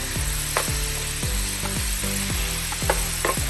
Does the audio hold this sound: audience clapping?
no